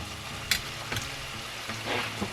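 Onions sizzling in a hot pan for leftover fried rice, a close steady fry with a few sharp clinks and scrapes of a utensil stirring, brief and without talk.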